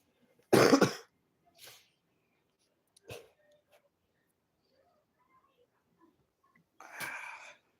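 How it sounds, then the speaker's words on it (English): A harsh, loud cough followed by a few quieter throat sounds and small hacks, then another raspy cough after a pause, in a quiet room. "The coughing is gonna get annoying real quick."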